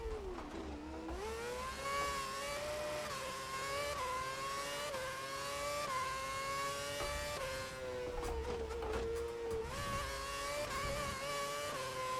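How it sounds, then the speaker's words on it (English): Formula One cars race in the F1 2011 video game during the Canadian Grand Prix, engines whining at high pitch with rising and falling revs as the car closes on and passes slower traffic, loud and steady throughout with no talk. "Coming up on a group of slow-moving cars, try to pass them quickly."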